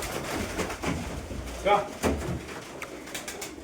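A pigeon coos once or twice amid a noisy outdoor background with other birds and faint voices nearby.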